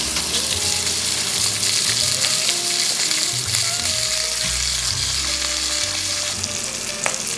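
Unseasoned pork chunks sear in hot oil in a pot for pozole, giving a loud, dense, continuous sizzle and crackle close up, with no talking.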